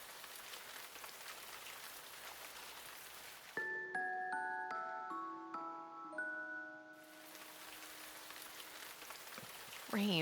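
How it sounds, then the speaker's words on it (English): Steady rain patters throughout a video game scene, a soft continuous hiss that briefly gives way to layered chiming tones in the middle before the rainfall returns alone. "Rain."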